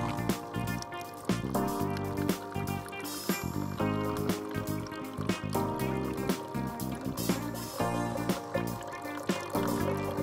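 A Nescafe Dolce Gusto Genio coffee machine runs cold rinse water during descaling, a steady liquid pour and trickle heard under continuous background music for about ten seconds.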